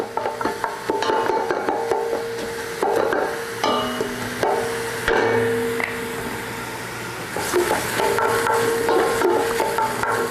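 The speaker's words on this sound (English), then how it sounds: "stand here a little while, and saute my onions." Onions sautéing in a pan for chili: irregular clacks and scrapes of a utensil stirring against the pan over a soft sizzle, fairly close and without talk.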